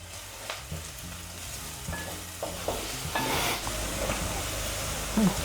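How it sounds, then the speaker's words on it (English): Green chili and chili powder fry in a pan while being stirred, a steady soft sizzle with intermittent scraping and light knocks of the spoon, close and continuous. "Add the green chili and the chili powder and mix it all together."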